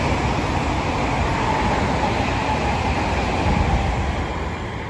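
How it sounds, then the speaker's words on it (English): An IET train passing through Pangbourne station on the Great Western Main Line, a steady, loud, broadband roar that holds for several seconds before easing slightly at the end. "there's a IET passing by"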